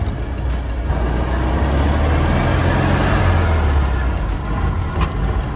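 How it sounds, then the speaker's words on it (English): A 1957 VW Oval Window Ragtop drives along in third gear with a loud, steady engine drone, and a sharp, brief pop stands out near the end. "Ooh, little backfire."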